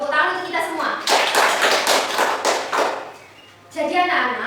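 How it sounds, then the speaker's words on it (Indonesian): Students in a classroom burst into a short round of clapping lasting about two seconds, bracketed by a teacher's voice before and after. "Tepuk tangan untuk kita semua"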